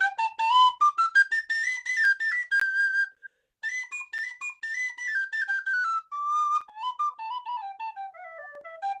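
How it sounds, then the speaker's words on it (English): A bright, clear traditional Irish penny whistle plays a lilting melody of quick notes and runs, close and solo, with a brief pause partway through. "It's a traditional Irish penny whistle."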